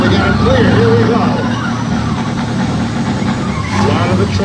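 Semi trucks with diesel engines, one a two-stroke rear-mounted diesel, rumble loudly at a drag race, a heavy engine idling and revving steadily while a voice talks over it.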